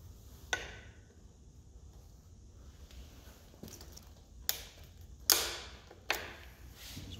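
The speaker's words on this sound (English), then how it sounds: "I'm going to take my Nitpex cutters and I'm going to put it around that cable and I'm going to cut that cable off." Knipex cutters chop through a cable on a MerCruiser Alpha One drive, giving several sharp snapping cuts spaced a second or so apart against quiet background.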